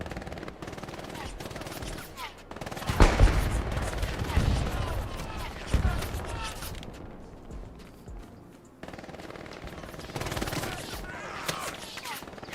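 Machine gun fire in the World War II shooter Hell Let Loose, set in the Hürtgen Forest, comes in repeated rattling bursts, loudest near the start and then trailing off. Distant gunfire and faint voices sit underneath.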